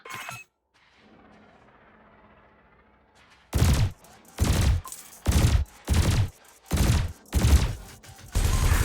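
Spaceship weapons in Elite Dangerous fire at floating canisters, about seven loud, evenly spaced bursts that ring out close and alone after a quiet stretch of low ambient hum.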